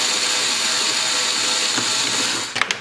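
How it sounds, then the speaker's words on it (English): A cordless angle tool whirs continuously at close range as it backs screws out of the front grill of a C8 Corvette, ending in a few sharp clicks and rattles as it stops. "you can see I'm using an angle tool here to be able to get in here. Hopefully my head is out of your way. And we can go ahead and pull these screws out"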